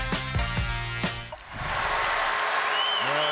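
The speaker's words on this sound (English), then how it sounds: "They applauding Kahn for the game he has." Basketball arena crowd at an NBA game between the Charlotte Hornets and Utah Jazz, with applause swelling into a broad, sustained roar of mixed reaction; brief tonal sounds precede it.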